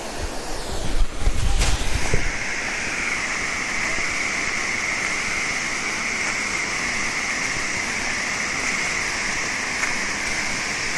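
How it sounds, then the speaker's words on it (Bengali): Ruposhi waterfall near Mirsharai and Sitakunda roars steadily from a distance as a broad, constant rush of water. A few handling bumps come near the start, and no one speaks. "এখান থেকে ঝর্ণার শব্দ পাওয়া যাচ্ছে দূর থেকে পানির অনেক জোরে শব্দ পাওয়া যাচ্ছে"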